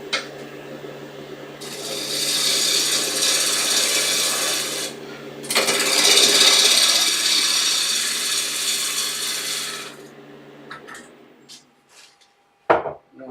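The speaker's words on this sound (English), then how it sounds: "it's giving a nice little shearing cut. You can hear those shavings coming off quite nicely." A woodturning shearing cut on a bud vase on the lathe, with shavings coming off in a steady rasping, whirring hiss that runs in two long passes, fairly loud and close, then stops into quiet workshop clicks.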